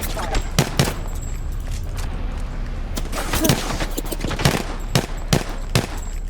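Single pistol shots crack out at irregular intervals in the Apex Legends battle royale game, sharp and close over a steady background hum, with no talking over them.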